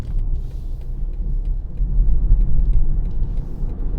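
Steady low engine rumble and road noise from a 2020 BMW 330d M Sport Touring xDrive automatic accelerating, heard from inside the cabin, swelling slightly midway and holding loud and continuous with no talking.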